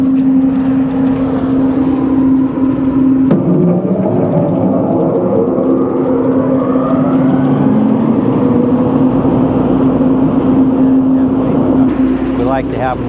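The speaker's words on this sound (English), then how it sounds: "that's blocking the air so that I can start this" A grain bin aeration fan motor starts and runs with a loud, steady droning whir and a constant hum, continuing for over ten seconds.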